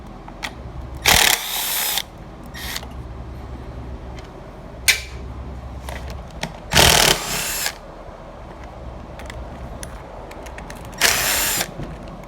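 A Stihl MS-180 chainsaw has its screws removed with a power driver in four short whirring bursts of about a second each, close by, separated by quieter clicks and handling noises.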